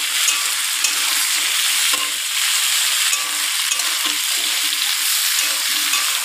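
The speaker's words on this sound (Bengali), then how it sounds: "সবজিটাকে দিয়ে দিয়েছি, এটাকে ভালো করে নাড়িয়ে চাড়িয়ে নেব।" Vegetables and potatoes frying in a pan with salt and turmeric, a steady loud sizzle running throughout with intermittent stirring scrapes close by, and no one talking.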